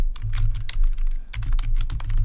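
Fast, close clatter of keys on a computer keyboard as text is typed into a document, a steady run of crisp clicks with no speech.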